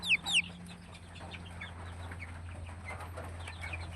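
Broiler and golden chickens cluck and call on a poultry farm, with a louder squawk near the start and continuous busy clucking at moderate distance over a steady low hum; no talk.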